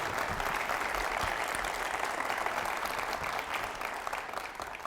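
An audience at a talk by Dennis Gartman claps in welcome, a dense, steady burst of applause that tapers slightly at the end.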